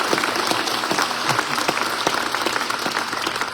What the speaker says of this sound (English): I wish you would give a round of applause to the person really responsible for that.